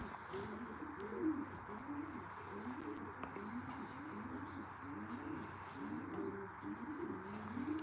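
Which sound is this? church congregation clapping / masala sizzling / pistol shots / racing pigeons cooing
racing pigeons cooing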